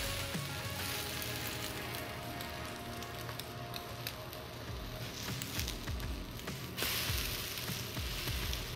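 Slices of apple cinnamon challah French toast frying in a pan, a steady dense sizzle with crackling spits and pops running the whole time, close and fairly loud with no talking.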